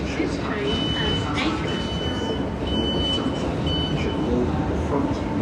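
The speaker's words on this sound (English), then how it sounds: "There's another train coming in here." A train pulls in at London Bridge station on a morning commute, with a low rumbling roll and a faint high-pitched whine or beep cutting in and out over steady platform noise, while a person talks nearby.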